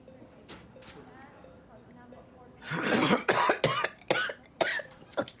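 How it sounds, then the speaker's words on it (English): A quiet stretch with faint voices gives way to a burst of harsh, close coughing, several rough coughs in a row. "Cough is killing me."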